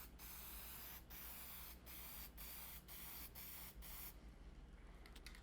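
Continuous hiss of an aerosol spray applying a light finish coat to a wooden cross, steady and close, with a few brief pauses between bursts, then fading to quiet near the end.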